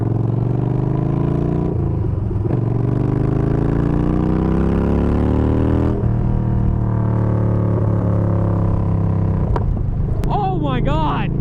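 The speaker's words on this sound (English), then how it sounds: "That's how you get a good pop. That was a little loud." A Yamaha Bolt motorcycle with a baffle-less Bassani exhaust revs hard on a sidewalk, a loud, steady rumbling drone rising and falling in pitch, with sharp pops near the end and a voice exclaiming over it.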